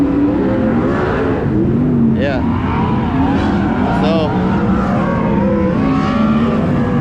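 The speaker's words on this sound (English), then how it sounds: "wait for these sprint cars. I can't hear myself think." Sprint cars race at Attica Raceway Park, engines roaring loud and close with rising and falling revs as cars pass, while someone talks over the din.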